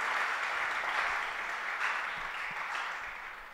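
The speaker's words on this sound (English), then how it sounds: "Can we please give them a big round of applause?" Audience applause at a literature festival session, steady clapping at fairly low volume that tapers slightly near the end.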